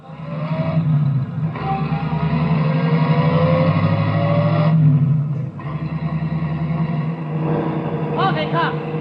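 Taxi cab engine pulling away in a 1945 radio comedy sound effect: a steady rumbling motor held loud and close for several seconds, briefly dipping and resuming, with a voice heard under it.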